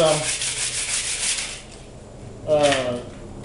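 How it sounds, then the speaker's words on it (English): Close-up rough sanding of arrow shafts with 60 grit sandpaper: rapid scratchy rubbing strokes, a short pause, then another quick burst of sanding. "sanding, at least rough sanding the shafts."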